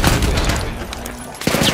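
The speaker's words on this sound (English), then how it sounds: "I'm getting shot at, I have no ammo at all." Rapid gunfire in the online shooter The Finals crackles in dense, close bursts over about two seconds, with a brief lull before a sharp return.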